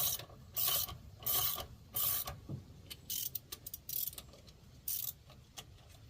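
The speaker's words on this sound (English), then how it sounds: "When I put things together, I used the ratchet." A ratchet turns as a Dana 70 Power Lok differential is put back together, sounding as short bursts of rapid metallic clicking separated by brief pauses, close and fairly loud against a quiet workshop.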